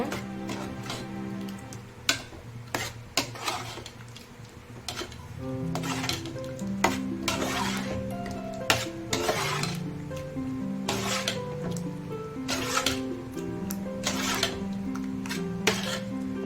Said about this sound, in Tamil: இதில் இப்போ நல்லா மிக்ஸ் பண்ணி விட்டுக்கோங்க